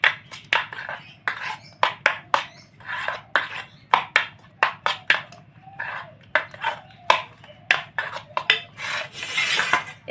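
Lentil paste being mixed by hand with chopped garlic, green chili and onion in a bowl, a steady series of close wet slaps and squelches in an uneven rhythm.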